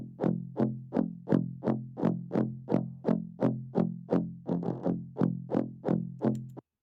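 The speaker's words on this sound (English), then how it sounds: "The guitars are all recorded clean and then processed to distortion," Clean, undistorted electric guitar tracks playing a fast, steady run of about sixteen evenly spaced palm-muted chugs, each sharp attack decaying quickly, then stopping abruptly.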